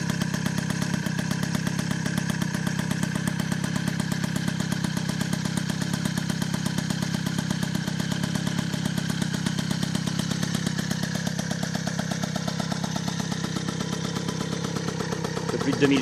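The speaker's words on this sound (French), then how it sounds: "Pas mal le ralenti, hein." A restored 1988 MBK 51 Magnum Racing moped idles steadily nearby, a continuous buzzing two-stroke drone with a faint mechanical clatter that holds an even rhythm throughout and stays loud from start to end.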